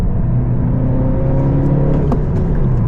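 A 1.5-liter engine in a 2020 Honda Civic Si pulls hard under acceleration, a steady loud drone with a rising low hum held close throughout, no voices.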